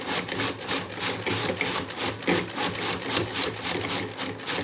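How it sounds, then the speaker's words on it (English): A Cuisinart food processor pulses a blend while the machine is shaken, giving a rapid, close, rattling motor drone in quick regular bursts with no talk. "You can do this with the Cuisinart. Shake it up as you pulse."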